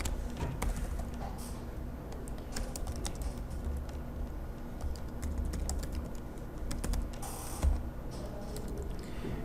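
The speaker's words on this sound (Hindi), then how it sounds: "यहाँ पे मैं इसी के अंदर कोड लिख देता हूँ" Steady keyboard typing while code is written into a file in a terminal editor, rapid close key clicks running continuously at moderate level over faint background noise, with no talking.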